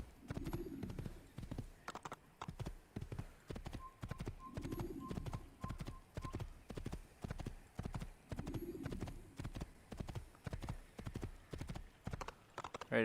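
Horse hooves clip-clop in a quick, steady galloping rhythm in the Assassin's Creed video game, loud and close throughout, with brief tonal game sounds and faint bird coos in the background.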